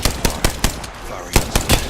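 Machine gun fire from a video game: short bursts of broadband shots, around nine in under two seconds, loud and close, with a brief gap in the middle.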